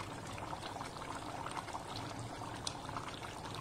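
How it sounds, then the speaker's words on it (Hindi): Water is poured into a large cooking pot, five litres for boiling rice for Hyderabadi chicken biryani, a steady faint splashing rush that continues unbroken. "एक बड़े से बर्तन में 5 लीटर पानी लेंगे"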